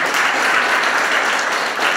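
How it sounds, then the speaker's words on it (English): Applause from a crowd at a Martin Luther King Jr. Day celebration in a parish church, steady dense clapping filling the whole moment at close range, with no break and no voices over it. "give Angela a round of applause as well."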